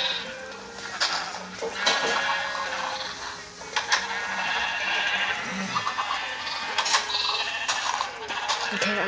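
Sheep on a farm in a video game bleat repeatedly, several overlapping bleats scattered through the stretch, loud and near, mixed with small game sound effects.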